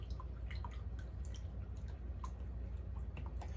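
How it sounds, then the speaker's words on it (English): Fleischmann's instant yeast being stirred into liquid in a bowl for pizza dough: faint, steady wet swishing with small clicks and drips, close and quiet, with no voices. "I'm just going to stir this up, or you could whisk it up."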